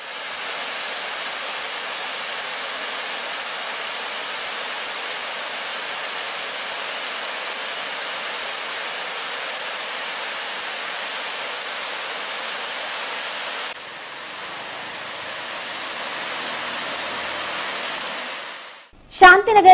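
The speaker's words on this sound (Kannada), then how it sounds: "ಬಂಡೆಗಳ ಮೇಲಿನಿಂದ ನೀರು ಧುಮ್ಮಿಕುವಾಗ ಬಿಳಿ ಹಾಲಿನಂತೆ ಗೋಚರಿಸುತ್ತದೆ" A waterfall plunges over rocks, its water swollen by heavy rain, giving a steady, dense rushing roar that holds evenly before briefly thinning and swelling again near the end.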